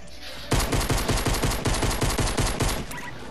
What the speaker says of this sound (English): I think somebody's shooting you.